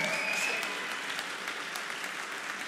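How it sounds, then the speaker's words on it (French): Audience at a voice-actor panel conference at TGS Toulouse 2019 applauding steadily, a dense even wash of clapping that carries through the whole stretch. "Je pense qu'on peut encore une fois les applaudir comme il se doit"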